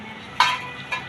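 A large ladle stirring egg curry in a pot makes one sharp metallic scrape followed by a softer second clink, close up over a low steady background.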